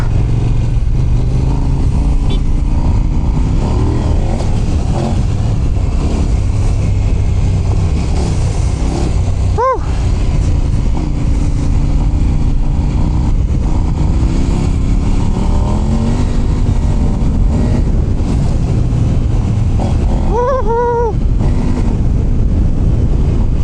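A Kove 800X Pro adventure motorcycle on a first ride, its engine droning loud and continuous through wind noise from the rider's viewpoint, with throttle rises and falls and a sharp brief spike partway through.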